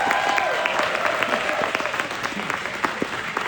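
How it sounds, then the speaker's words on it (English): A crowd breaks into sustained applause, dense clapping filling the whole stretch at steady loudness. "could you give me a round of applause, please?"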